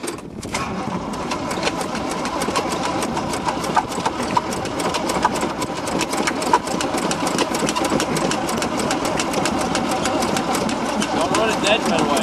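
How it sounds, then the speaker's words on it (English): A CJ5 Jeep or Farmall H tractor engine cranks and churns steadily on a cold start, a continuous mechanical drone lasting the whole stretch, with voices talking now and then over it. "I should just leave it cranking for like 15 seconds"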